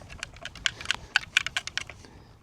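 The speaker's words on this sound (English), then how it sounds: "Can hear metal scraping." Metal scraping and clinking inside a metal detecting scoop on a beach, a quick run of light, sharp ticking rattles over faint background noise, close by and with no talk.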